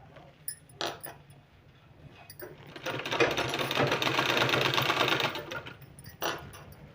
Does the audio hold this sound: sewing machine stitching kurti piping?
yes